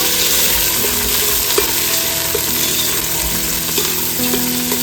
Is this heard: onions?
yes